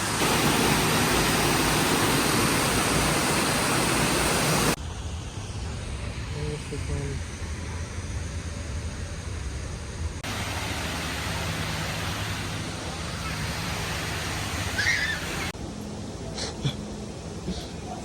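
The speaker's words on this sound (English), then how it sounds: "It's just water" Loud, continuous rushing water at the Gilroy Gardens amusement park in California, a dense roar that drops to a quieter wash partway through, with brief voices in the background.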